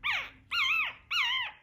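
A newborn Schnoodle puppy squawks three times in close succession, each cry a short, high, wavering squeal heard up close and loud with no talking.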